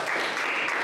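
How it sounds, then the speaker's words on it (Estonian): Audience applause at a student campus-party game show broadcast, a brief dense wash of clapping heard close and loud without any voices. "Tehke endale üks suur aplaus."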